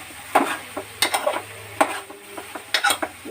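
A spoon stirring ridge gourd curry in a pan, giving a series of sharp irregular scrapes and clacks against the metal over a faint sizzle, close and without talk.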